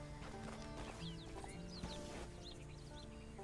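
Horse hooves clip-clop in Red Dead Redemption 2, a steady trotting beat mixed with game ambience and bird chirps, plus a brief whinny-like call, moderately loud throughout.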